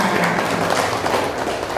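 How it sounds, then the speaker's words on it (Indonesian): A seminar audience gives a short burst of clapping for a school principal, a dense patter of many hands in an indoor hall, brief and fairly loud. "Tepuk tangan untuk Bapak Kepala Sekolah kita"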